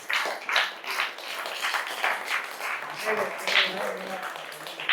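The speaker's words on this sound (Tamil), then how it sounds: "கையிருப்பவர்களெல்லாம் கைத்தட்டுவது எனக்கு சந்தோஷமாக இருக்கிறது." An audience claps in the crowd at a wedding, the patter fading in and out under a man's continuous speech.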